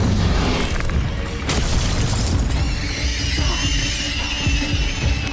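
A roaring, sustained fire blast from the Incendio spell in the video game Hogwarts Legacy, loud and dense with crackling bursts and no speech over it.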